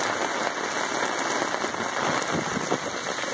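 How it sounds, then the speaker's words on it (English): Torrential rain pours down in a storm, a dense, loud, steady hiss of drops beating on surfaces without a break. No one speaks. "But it is torrential downpour right now."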